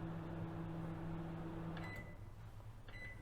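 A microwave oven running on its defrost setting with half a kilogram of food inside, giving a steady, close hum with low tonal drone and a couple of brief clicks or beeps near the end.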